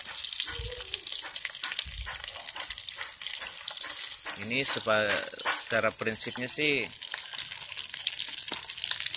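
Crackling, sizzling noise of plastic waste frying in hot used motor oil runs steadily throughout, with someone talking over it in the middle stretch.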